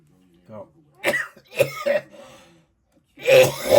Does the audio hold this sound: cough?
yes